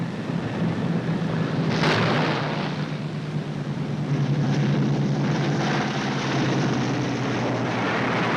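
A damaged World War II bomber's propeller engines drone as it comes in to land, a steady, loud roar with a low hum throughout and a brief surge partway through.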